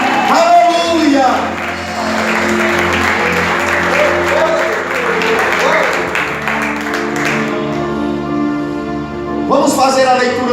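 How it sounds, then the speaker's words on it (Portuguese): A church congregation breaks into sustained, loud applause with scattered shouts and whoops, while a preacher's voice carries over the clapping near the start and again at the end. "dê glória e aplauda Ele em nome de Jesus"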